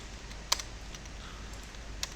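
A couple of sharp, isolated keystrokes on a computer keyboard while code is being written, faint and spaced well apart against a low background hiss.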